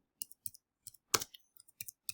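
Typing on a keyboard in an online study session, with light, close key clicks in short irregular clusters separated by silence.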